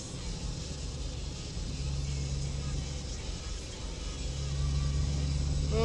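Steady low road rumble from inside a car cruising at the speed limit, a constant drone of engine and tyre noise with no voices.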